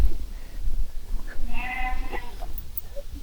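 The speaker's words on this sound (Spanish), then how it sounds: "No son cabras, son ovejas." A sheep on a farm in Canada lets out one clear wavering bleat in the middle, close by, over rustling outdoor background noise.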